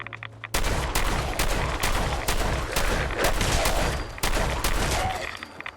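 A legendary shotgun fires repeatedly in a post-apocalyptic irradiated wasteland game, loud blasts coming in a steady rhythm of about a dozen shots after a brief quiet lead-in, with no talk over them.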